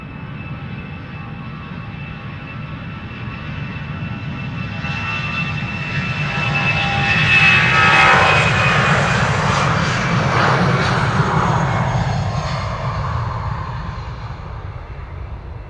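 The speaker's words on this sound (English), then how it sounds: "Do you know that EasyJet is spooling up? That's an A319 to Glasgow." An easyJet Airbus A319 bound for Glasgow spools up its jet engines for takeoff at Amsterdam Schiphol, a loud, continuous roar that swells toward the middle and holds with a rising whine.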